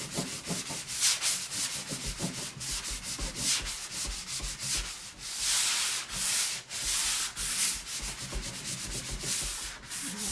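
Paint on a piece of furniture is rubbed and sanded off by hand during a makeover, giving a continuous rhythmic scratchy rasp of back-and-forth strokes, close and fairly loud, with no talking.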